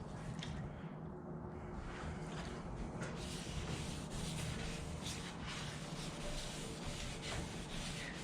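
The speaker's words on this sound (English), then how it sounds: "Most important thing is getting all that sawdust off." Rag wiping sawdust from a wooden farmhouse-style three-tier shelf, a steady close scratchy rubbing that continues without break, with no talking.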